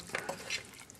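Floured oxtail being mixed in a bowl, a brief soft rustling and scraping stir with a couple of light bumps, close and fairly quiet.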